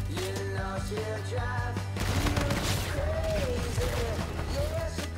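Gunfire during a Call of Duty: Infinite Warfare multiplayer match, a dense continuous fusillade of rapid shots running under steady game music and loud nearby talking throughout.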